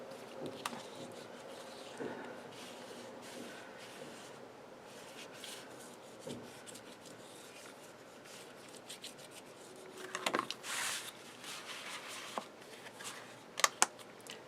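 Paper is burnished flat onto a craft album page, giving soft, close rubbing and scraping strokes that come in irregular bursts, with a few louder scuffs near the end.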